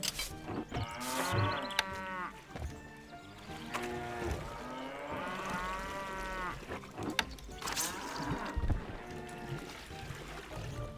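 Cattle moo repeatedly in the 2001 strategy game Stronghold, with several drawn-out lowing calls at a modest level over soft game ambience.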